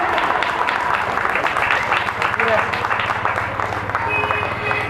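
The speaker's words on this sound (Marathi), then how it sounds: "सगळ्या महिलांकडून जोरदार टाळ्या होऊन जाऊ देत." Dense, continuous applause from women in an audience at a program honoring Dr. Babasaheb Ambedkar, a sustained wash of many hands clapping together, loud and steady before tapering slightly.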